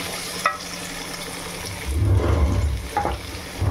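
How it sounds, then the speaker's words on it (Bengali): Potatoes fry in hot oil in a pan, a low sizzle that swells midway with a few stirring clinks, heard alone without talking. "এবার আলুটা আমি লাল লাল করে ভেজে নেবো"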